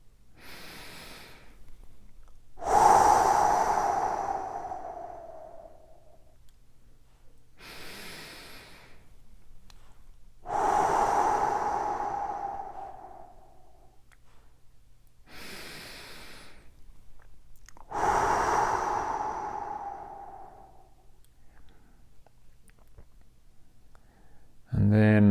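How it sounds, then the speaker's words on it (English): Three slow, deep belly breaths during a guided runners' mindset exercise, each ending in a long, forceful, breathy exhale that fades out, separated by quiet pauses. "So we're going to start as usual with 3 big, deep belly breaths."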